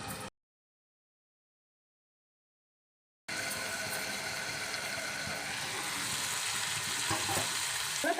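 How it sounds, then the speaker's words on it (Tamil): Chopped tomatoes cook for chutney in a covered pan, giving a steady, soft sizzle and hiss that runs on without a break after a short silence. "தக்காளி நல்லா வதங்கட்டும்"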